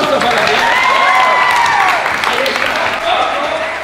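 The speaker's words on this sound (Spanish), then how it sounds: "Un aplauso para ti." Dense clapping from a crowd, loud and sustained throughout, with cheering and voices mixed in.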